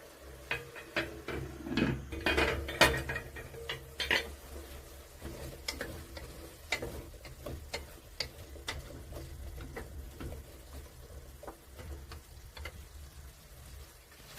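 Meat browning in a pot with a cinnamon stick, soft sizzling under scattered clinks and scrapes of a utensil stirring against the pot, moderately close and fairly quiet, with a few louder knocks early on.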